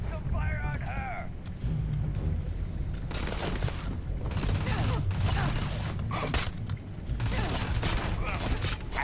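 Gunfire and heavy blasts from a firefight in the video game Starfield come in loud, dense bursts with short lulls, and a voice speaks early on.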